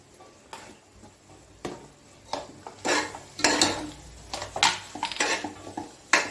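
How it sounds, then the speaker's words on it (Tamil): Ingredients being sautéed in a pan for chicken biryani, with repeated clanks and scrapes of a spoon against metal over a faint sizzle, the strokes irregular and close. "எல்லாத்தையும் நல்லா வதக்கிக்கோங்க"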